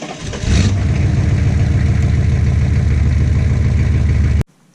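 A truck engine cold-starts with a brief crank and catch, then settles into a loud, even idle close by before the sound cuts off abruptly.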